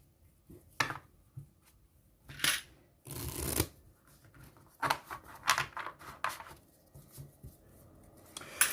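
Cards and pieces from the board game Pandemic Legacy Season 0 are shuffled and gathered on a table, making irregular soft riffles, rustles and clicks in short close bursts separated by quiet gaps.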